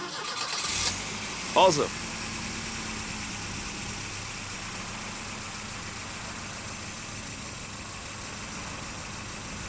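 A car engine cranks briefly and catches, then settles into a steady idle that continues evenly, with a short spoken word near the start.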